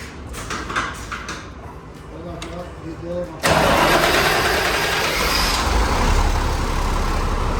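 A BMC Pro 1142 truck engine cranks with short whirring pulses, then catches and roars into a loud, steady diesel idle, with a voice heard briefly over the cranking.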